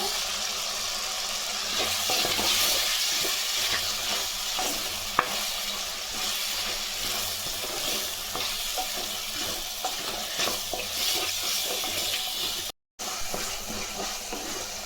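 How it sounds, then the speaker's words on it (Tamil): Tomato, onion and garlic sautéing in a pan, a loud continuous sizzle with stirring scrapes throughout and one short dropout near the end, no talk. "தக்காளி, வெங்காயம், பூண்டெல்லாம் நல்லா வதங்கிடுச்சுங்க"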